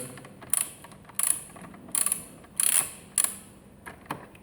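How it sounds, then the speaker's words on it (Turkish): Clicking bursts of a 13 mm socket ratchet loosening a bolt on a Peugeot 307, five or six short close ratcheting runs spaced about half a second to a second apart, with quiet gaps between. "Varsa elinizde 13'lük lokmanız ve lokma takımınız sizin de işlerinizi kolaylaştıracağını düşünüyorum."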